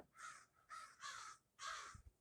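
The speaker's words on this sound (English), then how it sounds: "you might hear the crows" Crows caw outdoors in four harsh, raspy calls that come in uneven bursts, distant and faint against quiet background noise, with no speech.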